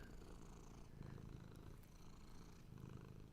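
A house cat named Bart purring right up against the microphone, a steady, dense rumbling drone with slight rhythmic swells, close and continuous throughout with no talking.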